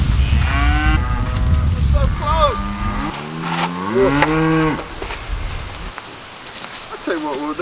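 Cattle on a working farm moo repeatedly in long, drawn-out calls, fairly close and loud, with a voice talking over and between them.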